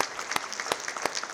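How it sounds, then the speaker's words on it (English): A civic audience applauds at a city address, dense steady clapping from a large crowd with a few sharper claps standing out, moderately distant and even. "A round of applause for Matt."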